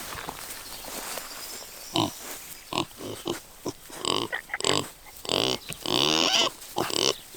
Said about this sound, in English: And the other two pigs, Cindy and Wilbur, getting hard to find